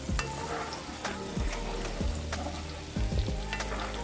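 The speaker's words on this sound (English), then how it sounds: "we're going to saute them until they're golden brown" Chopped onions sauteing in a pan toward golden brown, a continuous close sizzle broken by several low thumps and scrapes of stirring, with no talk.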